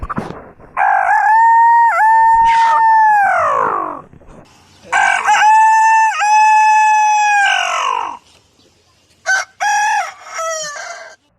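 A man mimics a rooster with his voice, giving three loud, close crowing calls of rising and falling pitch. Each call is separated by short silences, and the last one is choppier and broken up.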